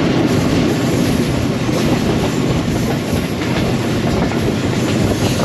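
An express train, the 12 Down 1000 Express, rumbles loudly through Dina railway station on a single-line route, a steady close roar with rhythmic wheel clatter throughout.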